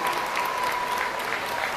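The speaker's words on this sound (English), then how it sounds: "Let's have a round of applause for our exhibitors heading back to the staging areas." Audience applause for exhibitors leaving the ring at a county youth fair swine showmanship class, a soft, steady patter of clapping lasting under two seconds with no talk over it.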